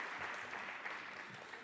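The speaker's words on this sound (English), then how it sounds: "Another round of applause for our terrific speaker" An audience at a pharmacy education conference gives a speaker a brief round of applause, a soft, dense patter of many hands clapping at a distance, steady and continuous throughout.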